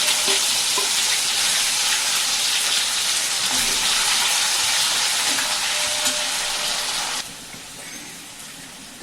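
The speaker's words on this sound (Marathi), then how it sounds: "कांदा छान खमंग परतला गेला" Onion, ginger and garlic paste with cumin fries in hot oil for a katachi amti, a loud, dense close-up sizzle that drops suddenly near the end.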